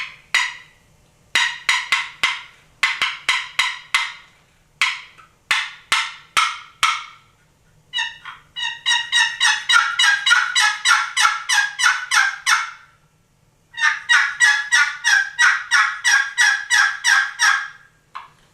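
Primos box call worked by sliding the thumb, giving turkey sounds up close: first a series of short, sharp clucks and cuts, then two long runs of fast, raspy yelps.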